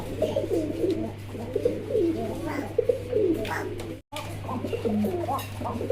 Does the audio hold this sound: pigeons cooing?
yes